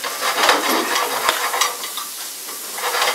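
Pancetta cooking in a pan during a chef's demonstration, a steady broadband sizzle with a couple of sharp clicks from stirring, fairly loud and close, with no voices.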